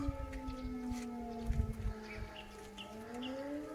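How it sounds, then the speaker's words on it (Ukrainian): Faint nightingale chirps and trills come through over a loud, distant air raid siren wail that slowly dips and rises, near Kharkiv, Ukraine. "Лунає спів солов'я."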